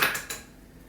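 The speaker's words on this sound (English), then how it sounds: "I like to crack my eggs into a separate bowl just in case there is a bad egg" An egg cracked against a bowl during snickerdoodle cookie baking gives a sharp tap and a second knock, followed by fading clatter, all brief and close.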